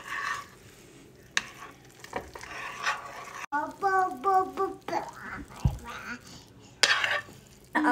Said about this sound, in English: let me stir the carrots around with the butter